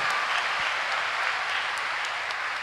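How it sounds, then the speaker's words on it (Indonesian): Audience applause at a new-student orientation at Universitas Samudra, a steady, even wash of clapping from a large crowd that holds at moderate loudness throughout, with no voices over it. "Kita berikan aplaus dulu untuk Bapak Agus Wahyudi"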